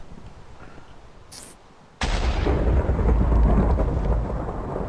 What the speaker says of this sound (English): that's a hell of a storm